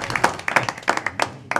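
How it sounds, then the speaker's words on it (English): A short burst of applause at a parish council meeting, a small group clapping in an uneven patter of overlapping claps up close, with no speech over it. "So I think we need to give him a round of applause"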